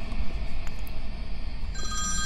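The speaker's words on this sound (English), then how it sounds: "The phone will ring, and no one will be there." Inside a horror video game, a telephone rings briefly over a low, rumbling ambient background, a short electronic ring that cuts in near the end.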